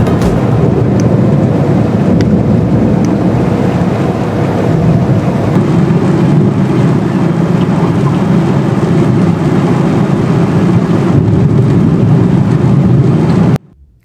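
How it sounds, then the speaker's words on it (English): A stormy night at sea aboard a yacht: a loud, unbroken roar of wind and churning water that carries on steadily throughout, with no voices and no distinct thunderclaps standing out. "we got a horrible storm"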